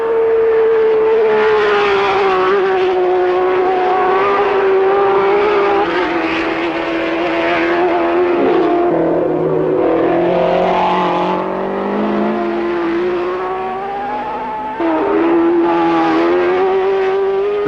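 1967 Formula One race cars at the German Grand Prix, a loud close high-revving engine howl with steady pitch and gear shifts, dipping as the car moves off and climbing again, with no talk.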